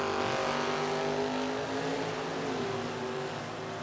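Drag race cars at a Summit Racing event in Norwalk, roaring down the strip in a dense, sustained engine blare that fades slightly toward the end.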